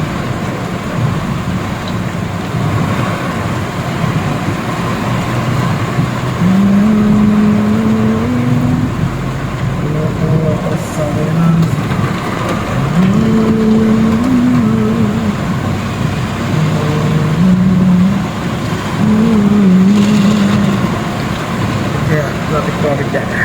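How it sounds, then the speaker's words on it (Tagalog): Road traffic in heavy rain, with vehicle engines rumbling and shifting pitch at close range under a steady wash of rainfall, and a voice talking at times. "Traffic dyan."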